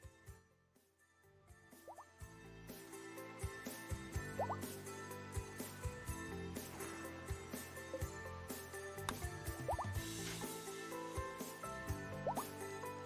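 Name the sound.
rain in the video game Rimworld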